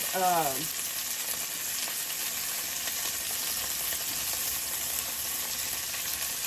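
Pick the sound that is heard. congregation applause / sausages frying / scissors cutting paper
sausages frying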